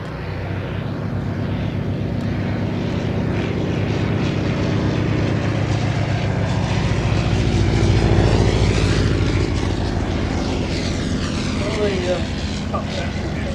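A First World War propeller aircraft flies at the Shuttleworth air show. Its engine drones steadily and loudly throughout, swelling slightly near the middle, with a voice talking over it.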